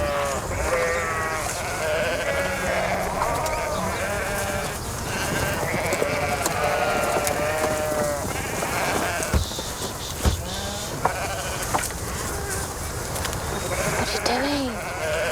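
Sheep bleating in wavering, repeated calls over a busy background with voices and a rhythmic electronic bed, ending in clicks and knocks.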